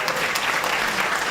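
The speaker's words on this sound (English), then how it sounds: "Let's give her a round of applause" Steady, dense applause from an audience gathered to honor Dallas police chief Renee Hall, a continuous wash of many hands clapping with no voices over it.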